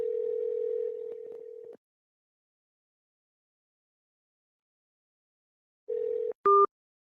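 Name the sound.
telephone ringing tone of an unanswered call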